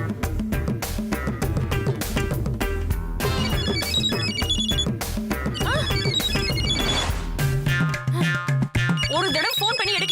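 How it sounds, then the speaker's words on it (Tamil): A phone ringtone plays a loud, continuous musical melody that rings on without pause in a household scene from a Tamil TV serial. "ஃபோன் அடிக்குது?"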